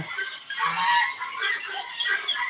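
Young Chinese goose goslings, about a day old, call together on a farm in a busy, high-pitched cluster of overlapping peeps and honks that carry steadily for a couple of seconds.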